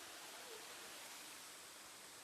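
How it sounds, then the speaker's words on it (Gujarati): A hillside waterfall pours steadily, a broad continuous hiss of falling water, faint and even with no voices. "અહીંયા બી પાણી મસ્ત પડે છે."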